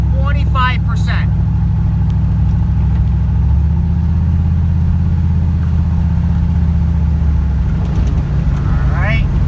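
An LSX-swapped GMC Canyon pickup with a turbo, its engine droning steadily and loudly under boost, with a person speaking briefly at the start and end.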